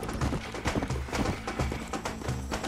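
A horse gallops in the Western video game Red Dead Redemption, a quick repeating clip-clop of hooves, moderately faint, with the rhythm steady and no voices over it.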